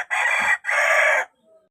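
Rhode Island Red chickens in a coop give two loud, close, drawn-out crowing calls in quick succession, with a faint cluck trailing after.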